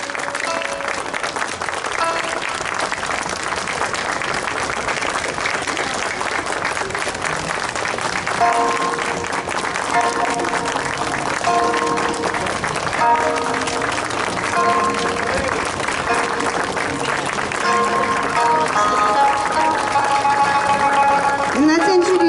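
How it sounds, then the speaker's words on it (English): An audience at an outdoor heritage-month fashion and costume stage show at Downtown Disney claps throughout, the applause blending with loud background music while a presenter speaks over it. "Let's give them all a round of applause."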